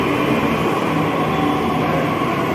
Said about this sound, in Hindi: ये दिल्ली का मेट्रो है